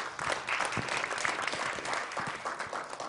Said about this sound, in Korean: 여러분 박수로 맞아주셨으면 감사하겠습니다